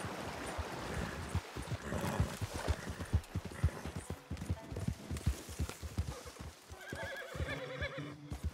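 Hooves clip-clop in a brisk, uneven rhythm up close, with a horse whinnying and soft flowing water in the background.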